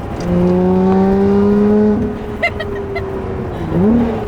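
A Lotus Evora sports car engine drones with a rising, throaty tone with its exhaust valve open, drops off, then revs up again with a sharp rasp; a voice briefly talks in between.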